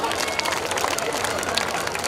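Crowd claps for donors at a devotional Krishna gathering: thick, continuous applause and babble at an even level with no clear gaps.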